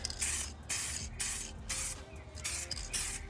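Aerosol spray paint hissing onto car wheel rims for a WRX, several short bursts of light spray separated by brief pauses, close and steady.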